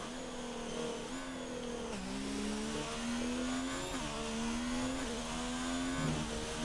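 F1 racing game car at the Hungary circuit, its engine whining steadily and climbing in pitch before dropping with each upshift, several gear changes in a row, loud and continuous with no talk over it.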